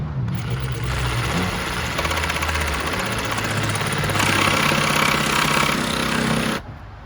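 A jigsaw fitted with a Diablo by Freud high-carbon/high-speed steel T-shank blade cuts steadily through material, a continuous buzzing, rattling saw noise at close range that grows louder midway before stopping abruptly near the end.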